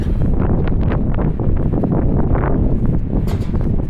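Heavy wind battering the microphone outdoors by a waterfront construction site, a loud, continuous low rumble broken by irregular buffeting pops.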